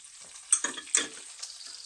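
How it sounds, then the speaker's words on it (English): Eggs being beaten in a bowl by hand, a few quick scraping strokes with two sharper clicks of the utensil against the bowl, close and fairly quiet, with no talking. "Excuse me while I beat my eggs."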